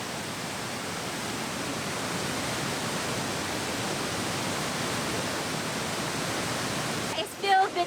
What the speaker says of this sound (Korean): 마치 세상의 온갖 시름을 삼킬 듯 우렁찬 폭포 소리에 시간 가는 것도 잊는다